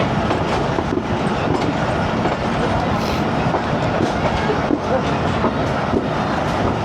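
A passenger train on the Lahore to Narowal line rolls along the rails in the rain, a loud, steady rumble with faint repeating clickety-clack from the wheels, heard from inside a carriage.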